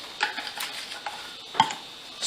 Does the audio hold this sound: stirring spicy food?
yes